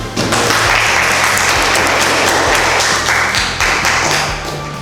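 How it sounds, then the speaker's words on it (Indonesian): An audience applauds after a group presentation in a classroom setting. The clapping is loud and dense, made up of many hands, and holds steady for several seconds before slowly thinning out. "dari kelompok 3 kita beri aplaus dulu"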